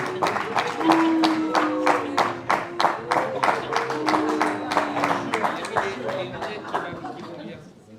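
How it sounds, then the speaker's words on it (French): Audience applause greets a government guest at a New Year's greetings ceremony in Auterive, France: a dense, steady patter of many hands clapping for several seconds, with voices running over it before it fades out near the end. "Donc je vais vous demander de l'applaudir bien fort."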